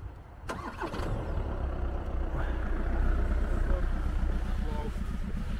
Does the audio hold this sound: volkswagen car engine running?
yes